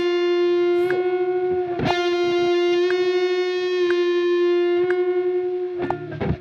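Sustained electric guitar note with effects and distortion, bent in slow even vibrato pulses, one movement per beat, with faint steady metronome clicks underneath; played alone, no talking.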